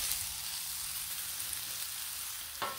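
Mushrooms and garlic sizzle steadily on a hot Blackstone griddle, a constant close frying hiss with a brief scrape or clatter near the end.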